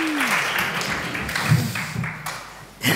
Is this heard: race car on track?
no